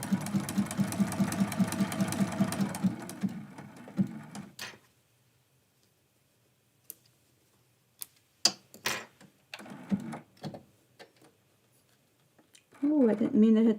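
Sewing machine stitching a Christmas quilt block, a rapid steady mechanical whirr for about four seconds that then stops, followed by scattered clicks and handling noises and a brief burst of talk near the end.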